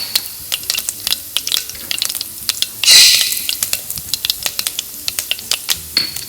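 Cumin and mustard seeds roast in hot oil in a pan, giving a steady sizzle broken by many sharp, irregular pops and crackles, with one brief louder hiss partway through.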